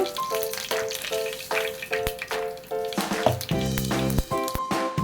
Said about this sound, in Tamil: எண்ணெய் ஊற்றிக்கலாம் கடுகு போட்டுக்கலாம் எண்ணெய் காஞ்சிடுச்சு